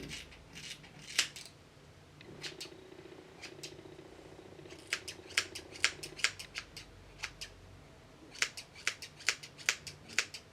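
Scissors snipping straight across the ends of hair in a home trim, sharp close crisp cuts in short bursts with pauses between, some quick double snips.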